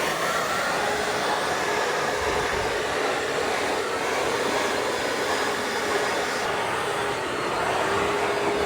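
A blower dries freshly cleaned car wheels with a continuous loud rushing of air, steady and close for the whole stretch, with no voices.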